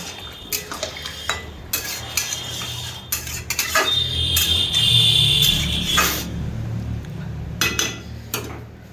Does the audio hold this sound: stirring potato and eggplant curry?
yes